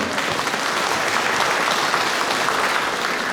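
A large audience gives a big round of applause for Korean War veterans at a public ceremony in Jecheon-Danyang, dense steady clapping filling the whole stretch without talk.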